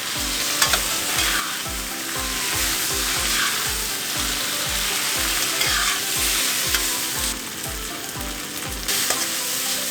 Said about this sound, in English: You stir it well until the rice noodles start to cook itself and become soft.